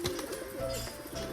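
Pigeons giving a short, soft cooing call, faint and brief with nothing else around it.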